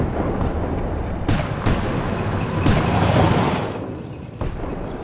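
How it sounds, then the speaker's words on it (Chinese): Distant artillery booms in a Chinese historical war drama, heard as several dull, rumbling blasts spread across a few seconds over a steady outdoor background, with no talking. "怎么会有炮声？"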